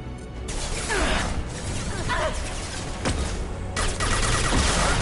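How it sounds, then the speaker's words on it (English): A flashbang grenade thrown at enemies in Mass Effect 2, heard as a dense, loud burst of explosive crashes and rattling gunfire with whooshing sweeps, continuous across the moment. "I'm throwing a flashbang at these guys"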